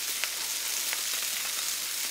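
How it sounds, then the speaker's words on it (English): Red wine hits a hot pan to deglaze it for ossobuco, producing a steady, loud hiss of sizzling with faint bubbling crackles throughout and no talking. "I'm actually deglazing my pan."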